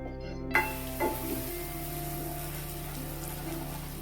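Whole spices roasting in hot oil for an egg masala, a steady close sizzle with a couple of brief stirring scrapes early on, no talking.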